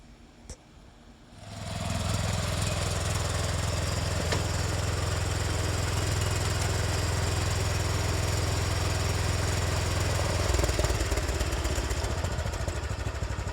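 A John Deere 214 lawn tractor engine running in first gear at its slowest speed. After a quiet second, it rises into a loud, steady, close-up drone that continues without a break.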